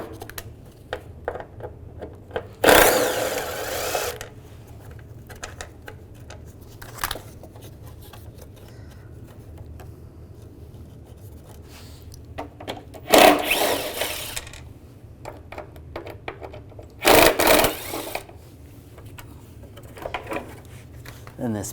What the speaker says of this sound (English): We're going to take these screws out, use a T30 socket.